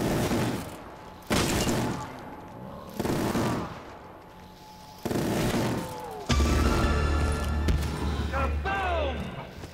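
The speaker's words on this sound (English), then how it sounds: "That explosion is very bright." Explosions and gunfire in Call of Duty Black Ops 3 Zombies on a custom map: several heavy booms spaced a second or two apart, then a loud sustained blast with debris, mixed with game effects.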